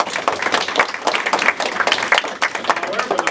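Audience applause at a town hall meeting in Central Saanich, a brief burst of dense clapping from a crowd filling the whole span.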